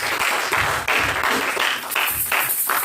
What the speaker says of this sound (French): Nous allons glorifier notre Dieu par des acclamations.